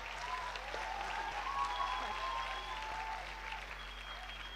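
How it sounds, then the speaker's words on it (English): A graduation day audience applauding in a hall, a sustained wash of many hands clapping at moderate distance, steady and fairly soft, with a faint tone and hum underneath. "We definitely deserve a huge round of applause"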